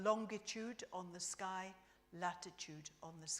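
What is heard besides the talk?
No everyday noise stands out behind the speech.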